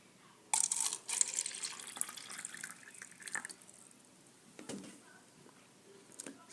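Water splashes and trickles into a chalk mixture in a container in a few uneven bursts, loudest at the start and then fading to faint drips.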